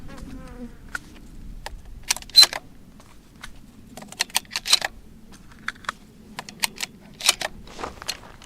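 Federal shorty shotshells are loaded by hand into a pump-action shotgun, heard as a sparse series of sharp, close mechanical clicks and snaps spread irregularly over several seconds against a quiet background.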